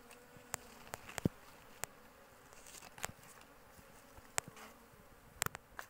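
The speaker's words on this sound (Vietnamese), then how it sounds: "Ong thì quá trời luôn này." Bees buzz around blooming coffee flowers on a plantation in Đắk Nông, a faint steady hum with several sharp close ticks and taps scattered throughout.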